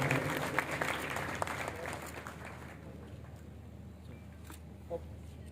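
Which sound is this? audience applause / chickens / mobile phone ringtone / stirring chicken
audience applause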